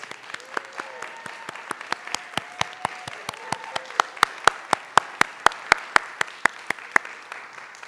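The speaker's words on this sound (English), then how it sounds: "if those around here can give them a round of applause and recognize them" A symposium audience applauds the committee, a dense crowd clapping with sharp regular claps standing out up close, steady throughout at moderate loudness.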